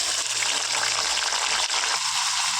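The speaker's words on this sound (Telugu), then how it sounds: "దీన్ని ఒక టెన్ మినిట్స్ చక్కగా ఈ ఆయిల్లో ఫ్రై చేసుకోవాలి" Chicken pieces frying in hot oil with onions give a dense, continuous sizzle up close, steady throughout with no talking.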